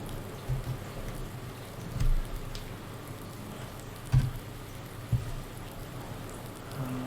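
Rain falls in the farming video game Farming Simulator 19 on a damp early morning, a steady soft hiss of rain with a few faint low rumbles, no voices over it.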